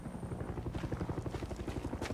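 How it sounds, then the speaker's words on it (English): Helicopter in the video game Far Cry 6, with rapid steady rotor thumping close by that pulses evenly throughout. "the helicopter's still harassing me"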